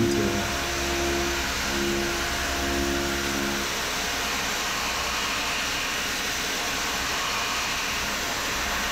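A Syil X7 CNC mill facing 1018 steel gives a steady, loud machining whir with a tonal hum that drops away partway through, leaving a continuous broadband hiss of cutting and coolant.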